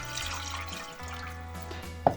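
Half a litre of water runs steadily into a vessel for an eggplant marinade, a low continuous flow with a faint hum and one brief splash near the end.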